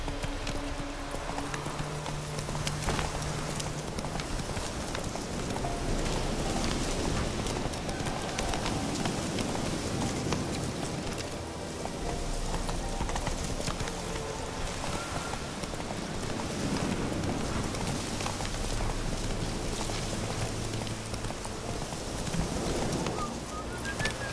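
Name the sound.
horse galloping in the rain, video game The Witcher 3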